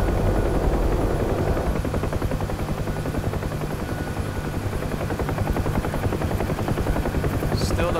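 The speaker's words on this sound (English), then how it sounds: "there's a chopper like this flying overhead with those friggin' miniguns" A UH-1H Huey helicopter in DCS flies with a loud, steady rotor thump and turbine drone throughout, close and continuous.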